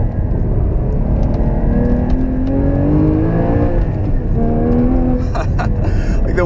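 Porsche 981 GT4 engine pulling hard out of corners on a rough, rally-like road, a loud continuous rising rev with harmonic climbs, heard from inside with road rumble and brief ticks near the end.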